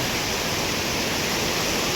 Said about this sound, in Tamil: இவ்வளோ தண்ணி அடிச்சு வருது பாருங்கள்